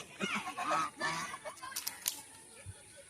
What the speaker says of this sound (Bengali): এগুলো হচ্ছে রাজাহাঁস। এরা এখন নদীর থেকে বিকালবেলা বাড়ি যাচ্ছে